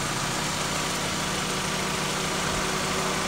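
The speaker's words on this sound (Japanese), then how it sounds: "はい、じゃあちょっとエンジンかけてみたいと思います。" Honda Torneo Euro R with a stock engine idling quietly and smoothly with the hood open: a steady, low, even hum with a faint mechanical whir and no revving, heard alone.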